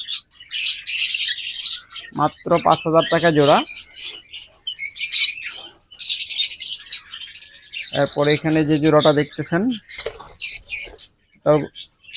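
Pet birds of local close-ring breeds chirp and squawk at a bird seller's stall, bright calls scattered throughout under someone talking about prices in Bengali.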